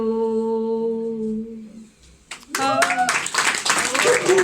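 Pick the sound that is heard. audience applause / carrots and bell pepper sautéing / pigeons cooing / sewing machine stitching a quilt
audience applause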